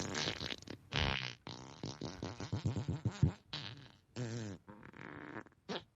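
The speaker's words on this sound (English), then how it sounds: "Alexa, fart at full volume" An Alexa smart speaker blasts a fart sound effect at full volume, a loud, close series of buzzing, sputtering bursts with short gaps that runs for several seconds.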